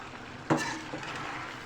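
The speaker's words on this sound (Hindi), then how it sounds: "आहिस्ता से इसको मिक्स करेंगे ताकि चिकन भी ना टूटे और पालक भी मिक्स हो जाए अच्छे से" Spinach and chicken are gently stirred in a cooking pot for shalgam palak gosht, giving a soft scrape and a brief burst of sizzling over a low, steady hiss.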